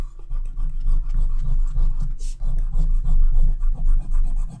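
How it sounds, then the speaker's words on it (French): A white eraser rubs pencil marks off drawing paper in quick back-and-forth strokes, close and rhythmic, a dry rasping scrub that pulses steadily throughout. "Je vais utiliser la gomme blanche pour enlever les restes de crayon."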